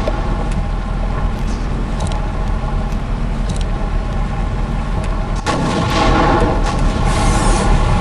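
A tank fires in the War Machines game with sharp booms over a steady engine rumble, then a louder blast near the end sets off a heavier roar.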